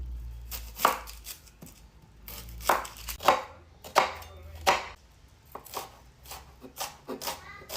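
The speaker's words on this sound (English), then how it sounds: "And finally slice our onion." A knife slices through an onion on a cutting board, with sharp, separate cuts in an uneven rhythm, close up and fairly quiet, with no talking.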